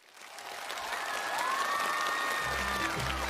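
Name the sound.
audience applause welcoming guests on stage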